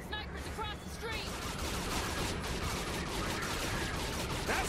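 Gunfire sprays toward the player in the video game Saints Row: The Third, a dense continuous barrage of shots across the whole stretch, loud and close, with talk mixed in.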